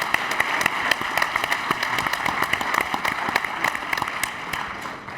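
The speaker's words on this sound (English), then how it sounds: "Give yourselves a round of applause." Audience applause in a large room after an economic and financial talk, steady dense clapping with sharp individual claps throughout, fairly loud and continuous with no voices over it.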